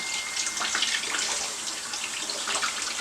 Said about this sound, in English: So I'm just going to wash them really, really well with water.